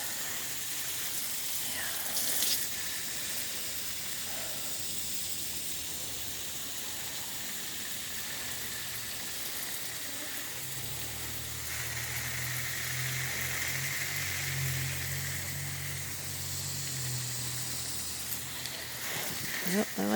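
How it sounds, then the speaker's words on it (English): A greenhouse misting sprayer fed by a constant-duty pump gives off a steady, soft, rain-like hiss of spraying water throughout, with a low hum rising underneath midway. "Let's adjust this sprayer down a little bit here."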